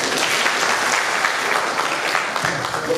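Audience in a hall applauds a representative introduced for a short speech at an anniversary event, a steady, moderately loud crowd clapping that holds evenly throughout.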